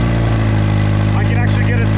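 Mazda Miata engine idling high from a throttle plate that is not fully closing, a steady low rumbling hum close by, with someone talking over it.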